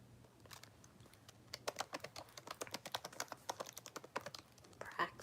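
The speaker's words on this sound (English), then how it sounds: "Why am I typing this out?" Rapid keystrokes clatter on a computer keyboard in a quiet room, a light, uneven run of close clicks that speeds up and pauses briefly.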